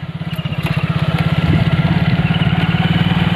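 A motorcycle engine pulses with a steady low throb while riding on a rough, damaged road beside a river under heavy clouds, loud and close throughout with a slight rise in power midway.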